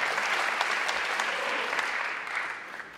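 Audience applause fills a political rally at the Cirque d'Hiver in Paris, a dense, steady clapping from a large crowd that carries on throughout and eases slightly toward the end.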